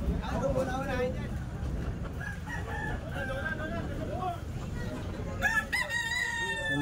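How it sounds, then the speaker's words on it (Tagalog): A rooster crows several times at a moderate distance, with a sharp final crow near the end, while people talk casually nearby over outdoor background noise. "May mga manok pa."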